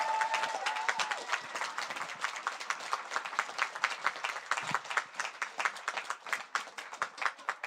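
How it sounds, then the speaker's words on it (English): Sustained crowd applause at the Roses 2026 event, dense clapping from a large audience that carries steadily through the whole stretch with no talk over it. "So we give them a fantastic round of applause."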